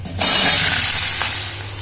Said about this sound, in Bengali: ভেন্ডিগুলি প্রথমে ভেজে নেব।